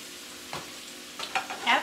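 Cabbage frying in bacon grease, a quiet steady sizzle with a few louder scraping stirs near the end, close by and without speech.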